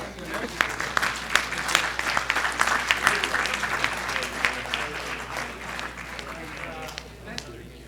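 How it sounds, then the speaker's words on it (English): Applause from a lunch keynote audience, a moderate crowd clapping in a steady, slightly uneven flurry of sharp hand claps that continues throughout, with a low steady hum beneath and faint voices mixed in. "Another round of applause."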